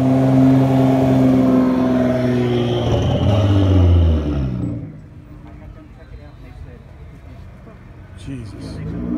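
A Nissan GT-R idles and revs at a Cars and Coffee meet in Dallas, its engine loud and close under steady conversation before the roar drops back to a quieter rumble.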